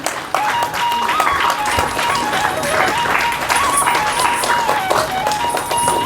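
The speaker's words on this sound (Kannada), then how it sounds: "ಎಲ್ಲರೂ ಜೋರಾದ ಚಪ್ಪಾಳೆಯನ್ನು ತಟ್ಟಬೇಕು." Audience applause at a Bharatanatyam dance academy cultural felicitation event, a steady wash of clapping from a crowd that fills the whole stretch, with a faint tonal hum running through it.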